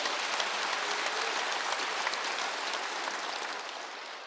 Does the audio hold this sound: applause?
yes